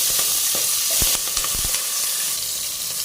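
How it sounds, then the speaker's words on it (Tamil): Cinnamon, cloves, onion, curry leaves and tomato tempering in hot oil, a dense continuous hissing sizzle with a few knocks and scrapes of a spoon, close and unaccompanied by speech. "தாளிப்புக்கு பட்டை கிராம்பு போடுறேன், வெங்காயம் கருவேப்பிலை போடுறேன், தக்காளி போடுறேன்"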